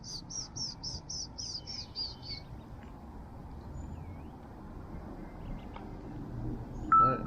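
A bird repeats a rapid series of high, evenly spaced chirps near the start, then a few fainter calls follow over a low outdoor background hum, with no one speaking.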